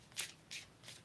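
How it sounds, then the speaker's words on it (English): Tarot cards being shuffled by hand, three quick soft riffling bursts in close succession, quiet and near with no talking. "I just keep shuffling until a card jumps out or like randomly flips over"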